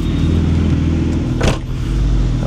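A Ferrari's engine runs steadily after recent exhaust work, giving a loud, close, continuous low rumble with stacked harmonic tones, broken by a brief broadband whoosh midway before the drone resumes, with no voices.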